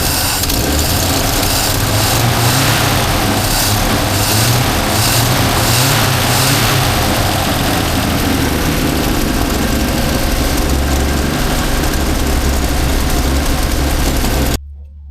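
Holden HX engine runs at a steady, rough idle throughout, loud and close-up with a constant low rumble before cutting off abruptly at the end.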